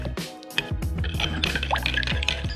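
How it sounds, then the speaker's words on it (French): A honey-mandarin vinaigrette poured over turnip, a close, soft liquid trickle with small drips and splashes running continuously for a couple of seconds, with no talking. "Versez les 2 tiers de la vinaigrette sur le navet"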